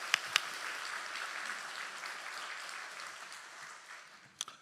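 Church congregation applauding Sunday school students at a children's Sunday service, a soft, steady wash of clapping from a crowd that fades gradually, with a couple of sharp knocks near the start and end.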